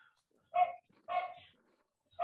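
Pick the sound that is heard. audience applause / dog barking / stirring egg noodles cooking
dog barking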